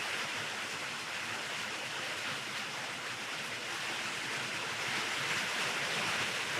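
Heavy rain pours steadily onto a carport roof at a camp with a 3rd Gen Tacoma camper, a dense, loud, unbroken hiss and roar filling the whole span with no talk.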